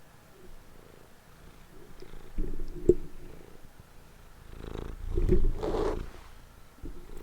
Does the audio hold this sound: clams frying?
no